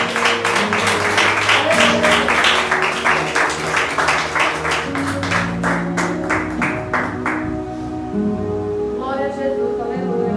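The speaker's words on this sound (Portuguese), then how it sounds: "Receba o pastor com as palmas bem alegres para o Senhor Jesus." A church congregation applauding during a worship service, many hands clapping in a quick, lively rhythm for several seconds before fading out as a sustained organ-like tone continues underneath.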